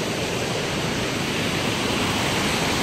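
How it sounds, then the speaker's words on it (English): Waterfall at Paronella Park, a loud, steady broadband rush of falling water, constant and close with no other sounds. "Part of the waterfall."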